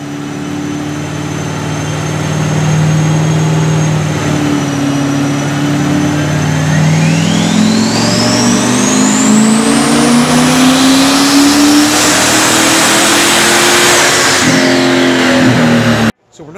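A turbocharged C5 Corvette engine is run hard on a dyno, revving up through a long, loud pull with rising whine and turbo whistle, then cutting off abruptly at the end.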